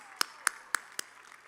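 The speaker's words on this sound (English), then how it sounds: "Let's clap hands for them." A few slow, distinct hand claps at a university academic opening and first-year welcome ceremony, four sharp claps spaced evenly and fairly close, fading into quiet room tone without a full round of applause.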